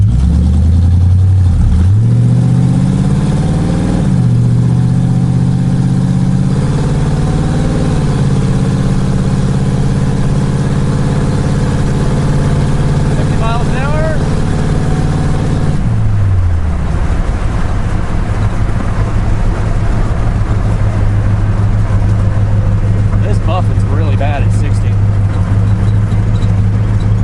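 Carbureted car engine, long left sitting, loud and close, idling roughly then revving with several throttle blips that rise and fall before settling back to a steady idle, with a person speaking over it.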